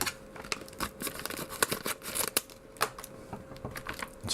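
Candy wrappers are torn and crinkled up close in quick, irregular bursts of crackling and rustling, fairly quiet and with no talk over it.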